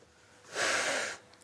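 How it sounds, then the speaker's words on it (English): A patient draws one breath in through the mouth, a soft airy rush that swells for about half a second and fades, close to the listener in a quiet ambulance setting. "I'm just going to listen to your breathing."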